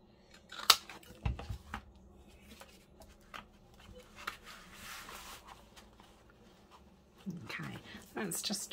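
Scissors snip through a sheet of Stamperia 12x12 paper in a few quiet, close cuts, with soft handling rustles and faint talk between them.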